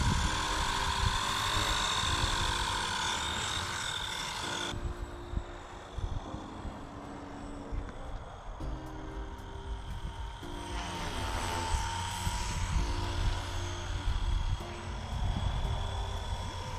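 A Blade 150fx radio-controlled helicopter flies outdoors, its small rotor and motor making a steady whining buzz with a thin high tone, close and fairly loud, shifting in pitch as it moves, with no talk.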